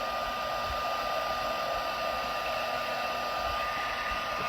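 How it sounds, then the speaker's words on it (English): A heat embossing tool blows hot air in a steady, loud, unbroken whoosh with a faint whine, close by and alone for the whole stretch. "we are heat embossing"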